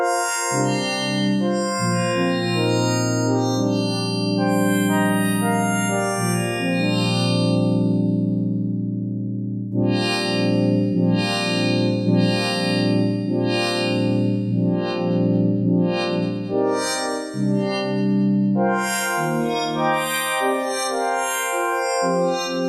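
A sustained Waldorf XTk synthesizer drone with a sweeping, resonant filter that pulses and shifts rhythmically, bright and buzzy, heard alone without voices.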